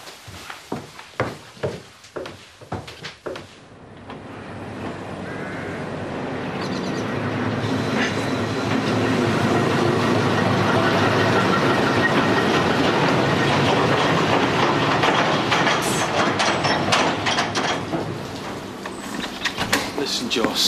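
A train rolls past on the rails, starting with rhythmic clicking as it approaches and building into a long, loud rumbling roar that holds steady for many seconds, with voices heard faintly at the start.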